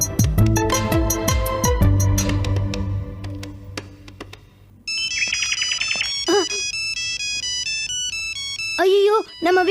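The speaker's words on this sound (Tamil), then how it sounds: "நம்ம வீட்ல இருந்து ஃபோன் பண்றாங்க" A mobile phone ringtone announces an incoming call from home, its bright repeating electronic tones ringing loud and steady through the second half, following a stretch of music and voices.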